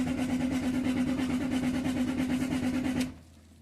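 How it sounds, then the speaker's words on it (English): A 3-litre diesel Range Rover engine cranks without firing, giving a steady, loud, rhythmic churning for about three seconds before it cuts off abruptly into near silence. "So it's a crank and no start, so the engine is turning but it's not firing up"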